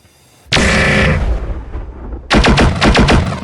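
An autocannon fires in the BattleTech video game. One loud blast roars and fades, then a rapid burst of punchy shots follows, close and dominant with no speech.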